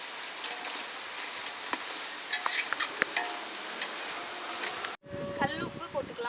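Spices with fennel seeds being stirred as they fry in a pan, a steady dense sizzle with scraping stirs throughout, briefly cut off then resuming louder.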